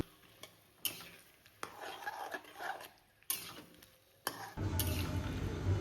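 Chopped ash gourd and potato tumble into a pan of fried spices and get stirred, with sharp utensil clacks against the pot and then a steady loud sizzle.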